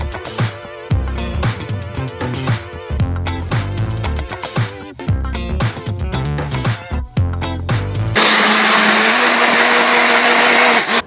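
A blender whirs loudly and steadily while blending a vegan smoothie, a harsh even roar starting near the end after several seconds of rhythmic music.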